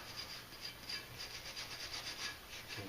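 Steady scraping and rubbing against the metal of a dirty, rusty front brake caliper bracket on a BMW E46 330xi, a quiet rasping stroke repeated in a fast rhythm, close by with no talking.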